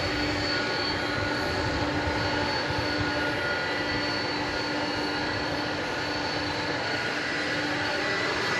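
A McDonnell Douglas MD-11 jet from 1993 roars at an airport at night, giving a steady, broad engine rumble with a high whine that holds constant throughout, with no talk.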